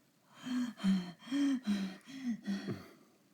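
A voice imitating heavy monster panting: six rhythmic, breathy, throaty huffs in steady succession, close and fairly quiet.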